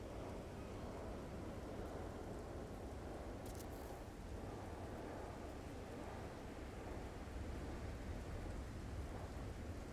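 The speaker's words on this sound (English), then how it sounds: "in a storm." A dense rainstorm with rumbling thunder rolls on steadily on an alien planet in No Man's Sky, rain hissing continuously under low thunder with no voices.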